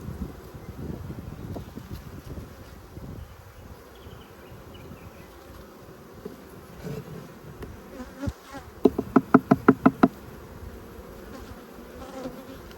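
Honey bees buzz at close range during a beehive inspection as frames of brood and honey are handled, a steady drone under quiet rustling and handling sounds, with a brief cluster of sharp, louder buzzes near the end.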